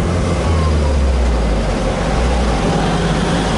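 A 1970 Ford Opala-era double-cab pickup hauling a beer cooler rumbles steadily along a city street in Cuiabá, its low engine drone constant and close amid light traffic.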